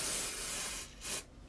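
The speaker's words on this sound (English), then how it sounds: "And then go on the other side and spray the other side." Dry shampoo is sprayed from an aerosol can onto the roots on the other side of the hair: a soft, steady hiss that dips briefly, returns in a short burst, then stops, with no voices.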